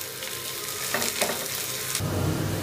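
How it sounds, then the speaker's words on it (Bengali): Onion and green chilli fry in a pan with a steady, close sizzle that grows louder and denser partway through, with a few stirring scrapes. "এখন আবারও পেঁয়াজ আর কাঁচামরিচ একটুখানি ভেজে নিব যাতে করে পেঁয়াজটা সফট হয়ে যায়"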